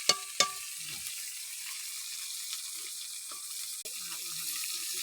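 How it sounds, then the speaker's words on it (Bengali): Stuffed pointed gourds (potol dolma) fry in a pan, a soft, steady sizzle under a few sharp utensil clicks and knocks, with faint bits of voice. "দেখুন ভাজা হচ্ছে আমার, পটলের দোরমা করবো এই জন্য আমি ভাজছি।"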